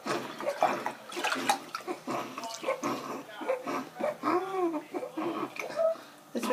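Water splashes and pours over a small child in a bathtub, bursts of rinsing mixed with the child's whimpering and babbling close by, as an adult talks softly throughout.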